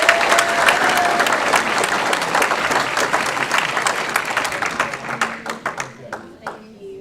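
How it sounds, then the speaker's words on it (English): A room full of people at a county school board meeting applauds together, dense clapping that holds steady before thinning to scattered individual claps at the end. "give them a big round of applause while the board thanks them"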